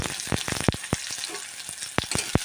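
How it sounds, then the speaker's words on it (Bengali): Chopped onions frying in hot mustard oil in a kadai, a bright crackling sizzle punctuated by sharp spatula scrapes and clicks against the pan, close up and without voices. "দুটো ছোটো পেঁয়াজ এগুলোকে একটু হালকা ভেজে নেব"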